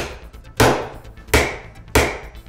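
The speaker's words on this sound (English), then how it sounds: "Now, watch what happens when I hit it with a hammer." Three sharp, loud hammer blows strike a tough polycarbonate eyeglass lens, each a crisp close crack followed by a short ringing decay, spaced roughly evenly apart with no talking.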